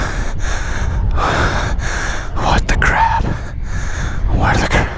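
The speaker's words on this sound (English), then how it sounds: "Sorry for the breathing, guys. I'm out of shape, okay?" A man out of shape breathes heavily after running on foot, giving loud, close gasps and snorting breaths in uneven bursts with short pauses between them.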